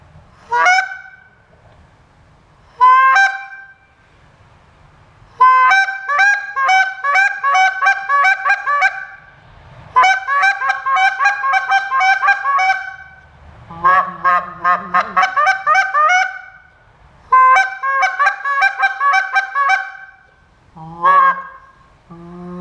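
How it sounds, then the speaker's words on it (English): A goose call held in two hands is blown in a series of loud, rapid honking clucks and double-note bursts, broken by short pauses, with no talking. "You gotta hold a goose call with two hands, you know."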